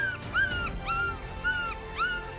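Newborn puppies from a litter of 19 whimper and yip in a string of high, rising-and-falling cries, about four close squeals repeating over a soft, busy background.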